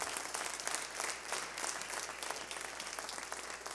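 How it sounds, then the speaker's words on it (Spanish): Congregation at a church first-fruits celebration applauding the Lord, a steady, dense burst of many hands clapping together, sustained evenly throughout at moderate volume. "Give a round of applause."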